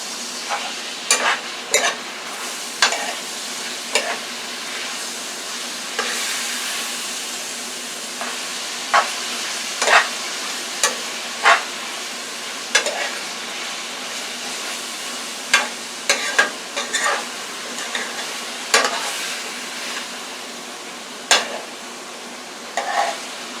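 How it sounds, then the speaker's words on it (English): Peppers, onions and steak sizzling loudly in a hot pan for an open-face steak sandwich, a steady close frying hiss broken by repeated sharp scrapes and knocks of stirring, with no voices. "now we're going to mix the peppers and onions in with the steak."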